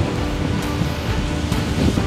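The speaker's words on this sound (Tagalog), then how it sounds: "mahangin yung side na to compared doon sa kabilang side" Wind blowing across an island campsite beachfront at low tide, a continuous low rumbling buffet against the microphone mixed with the wash of nearby surf, steady and fairly loud.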